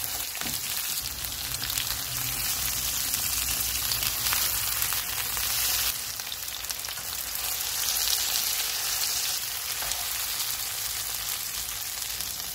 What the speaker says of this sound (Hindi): अब हम प्याज, टमाटर और मिर्चें रोस्ट कर लेते हैं।